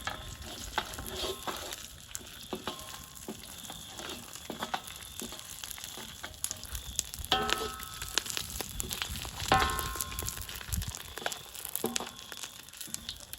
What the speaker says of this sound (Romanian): în care prăjim o bucată de slănină